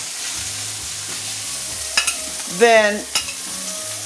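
Sage-seasoned blue catfish sizzles and crackles steadily in a hot pan on a grill, with brief clatter from stirring or turning and a single short spoken word.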